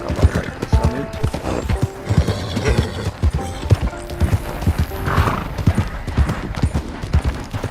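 Horse hooves pound in a steady, fast clip-clop gallop in the Red Dead Online video game, close and loud throughout, with a brief whinny and faint background game sounds.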